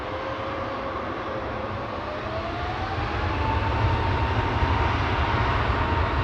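An Airbus A321neo bound for Vienna takes off at Amsterdam Schiphol, its engines a steady, loud roar with a rising whine that swells as the jet builds power on the runway.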